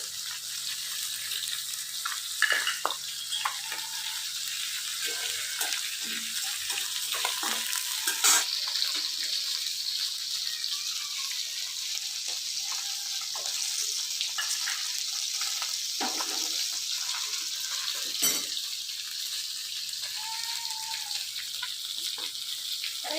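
Oil sizzles steadily in a pan while hog plum chutney for rui fish cooks, broken by scattered scrapes and clinks of a spoon stirring, with no talking.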